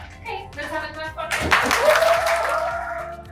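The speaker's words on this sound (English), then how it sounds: "Okay, let's have a clap" Audience applause in a school English debate session, a burst of clapping swelling after the first second and continuing steadily, mixed with children's voices and chatter.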